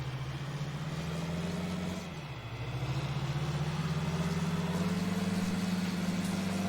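A tractor engine in the video game Farming Simulator 19 runs at a steady mid-low hum, dipping briefly in pitch and level around two seconds before settling back to a constant drone, with no talking.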